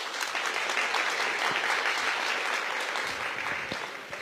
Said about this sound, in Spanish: yo sí quiero pedir un fuerte aplauso al DPS por esa gestión